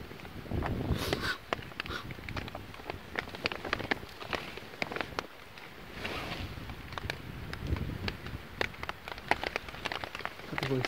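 Steady rain patters down outdoors amid gusts of wind while a fire is being started, with a voice talking now and then over the wet, crackling background.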